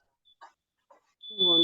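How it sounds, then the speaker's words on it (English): A sustained high electronic alarm tone starts abruptly near the end after a couple of brief quiet sounds, loud and steady with a buzzing undertone, and speech-like sounds occur just before it. "is that your alarm going off?"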